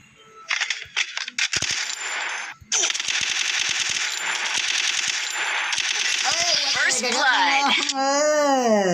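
Rapid automatic gunfire in a ranked one-on-one mobile shooter duel rattles in dense, nearly continuous bursts with brief gaps, loud and close, while a player talks excitedly over it.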